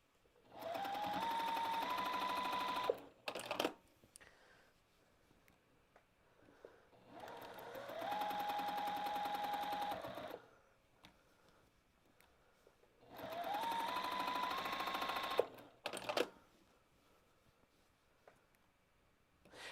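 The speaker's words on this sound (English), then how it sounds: "I am quilting just between just with the quilt top and the batting." A home sewing machine quilting through a postcard quilt top and batting with nothing behind, running in three bursts of steady rapid stitching, each a few seconds long, separated by brief pauses with small clicks and handling noises.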